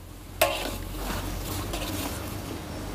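Spicy blondo and tunjang stirred in a pan, giving a steady sizzle with scraping utensil strokes after a sharp initial clank, close and continuous.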